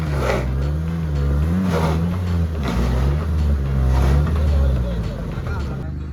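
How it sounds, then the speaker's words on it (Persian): An L90 car engine revs hard while driving off-road, its pitch rising and falling in close, continuous surges that run steadily through the whole stretch. "مراد قفل به شدت درگیر"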